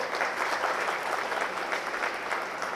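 An audience at a talk by an Indian Army brigadier claps steadily, a full and even round of applause that carries on without a break and has no speech over it.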